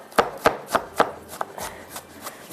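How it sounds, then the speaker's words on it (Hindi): An onion is chopped on a board with a knife for mutton masala, about eight crisp, evenly spaced thuds that soften toward the end, close and alone. "जब तक ऑयल हमारा गर्म हो रहा है हम एक प्याज को कट कर लेते हैं"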